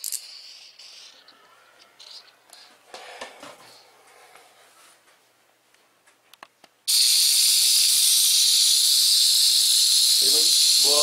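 A Fakir steam mop from Bim sits quiet for several seconds amid small handling noises, then bursts into a loud, continuous hiss of escaping steam that holds to the end, with a short voice near the close.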